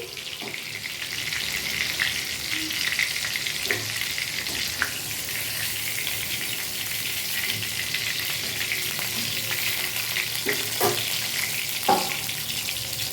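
Nigella seeds sizzle steadily in hot oil, a continuous bright frying hiss with occasional small pops, close and fairly loud, with no voices.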